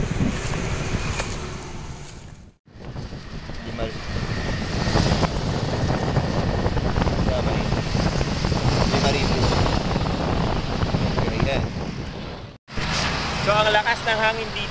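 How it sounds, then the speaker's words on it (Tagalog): Strong wind buffets the microphone beside a street food store in Indonesia, a loud continuous low rumble with gusty roar that drops out briefly twice, while a person talks throughout. "Lakas ng hangin dito."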